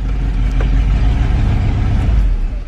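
A wrecked car with no windshield, recently flipped upside down, its engine running roughly as it drives, a loud low steady rumble throughout, no talk.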